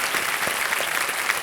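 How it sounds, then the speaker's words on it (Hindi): A studio audience at a television quiz show claps steadily, a dense, even patter of many hands filling the whole moment with no pause. "तालियां बजाएं इनके लिए."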